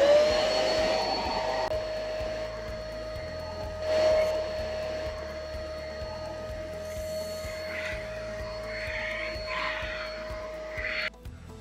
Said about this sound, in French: tous les modèles qui composent la série Ultimate Line seront dotés d'un aspirateur qui se branche tout simplement sous le frigo